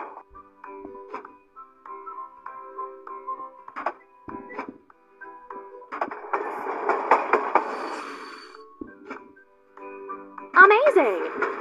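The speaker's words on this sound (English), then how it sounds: "The train has arrived." Toy train clattering and clinking along a railway in a kids' train-building video game, with rhythmic clicks, chimes and a louder rumbling stretch, near and moderately loud.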